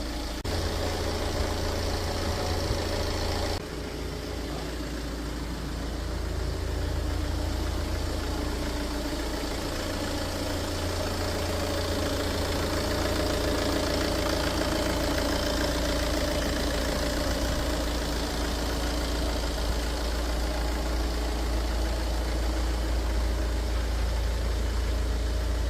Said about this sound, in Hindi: गाड़ी का जो मधुर साउंड है ना बहुत ही अच्छा हो गया